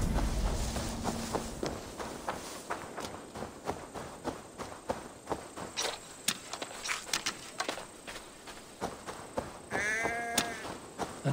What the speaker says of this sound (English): That sounds like a sheep, and not a happy one.